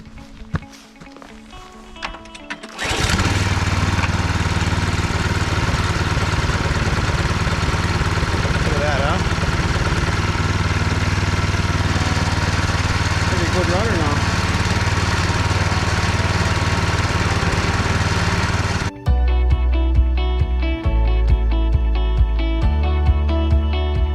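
A Yardmax two-stage snow blower engine starts after quiet handling noises and runs loud and steady at close range for about fifteen seconds, then drops back to an idle with clattering knocks, in wet snow outdoors.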